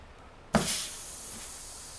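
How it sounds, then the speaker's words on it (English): A leaking air blower used during a 6L80 transmission teardown from a 2004 GMC 5.3L 4WD bursts into a sudden, sharp hiss that settles into a steady, fainter rush of escaping air. "My air blower's leaking."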